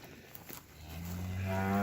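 Cows on a farm during the weaning of replacement heifers give a long, low moo that swells and grows louder toward the end, close by and with no talk.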